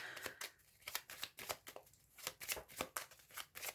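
Tarot cards being shuffled by hand, a quick series of crisp riffling flicks in an irregular rhythm, close and fairly soft, with no talking.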